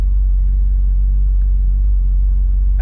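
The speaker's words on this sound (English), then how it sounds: "the sound of it with the Capristo is just fantastic" A Ferrari 458 Spider with a Capristo exhaust rumbles steadily and loudly close by, a deep sustained engine drone with no breaks and no talk over it.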